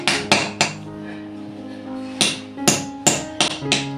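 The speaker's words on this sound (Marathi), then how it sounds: "आता हे मी ना असे कापून घेते कारण कडक आहे ना" Hard sesame and jaggery chikki (tilgul) being cut on a kitchen surface: a series of sharp, close cracking knocks at an uneven rhythm, with a faint tonal ring lingering between strikes.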